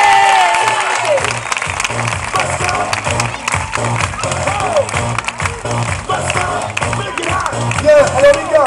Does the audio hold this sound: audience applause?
yes